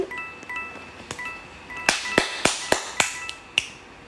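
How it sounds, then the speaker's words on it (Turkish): A handful of sharp, separate claps or snaps land at an uneven pace, bunching together near the middle and then thinning out, over a faint run of electronic game tones in the background. "Alkışlama sesi."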